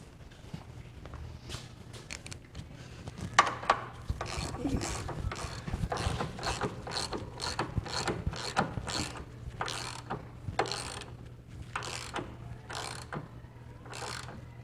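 Ratchet wrench clicking while working on the steering components of a 1996 Buick Roadmaster, a steady run of close, loud bursts of ratcheting about once per second, with some metallic clatter early on.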